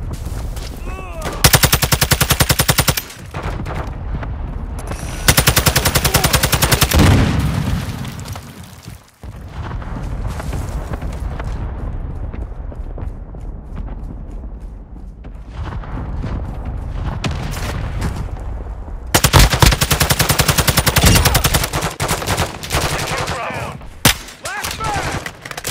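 Rapid bursts of automatic gunfire and booming explosions fill a Call of Duty: Modern Warfare II battle, coming in loud clusters separated by brief quieter stretches, with heavy rumbling layered beneath the shots.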